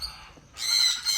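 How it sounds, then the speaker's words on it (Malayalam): Young chickens give sharp, high-pitched calls up close. A faint call comes first, then two loud, squawky chirps in quick succession. "കോഴിക്കിടാങ്ങളൊക്കെ ഉണ്ട്"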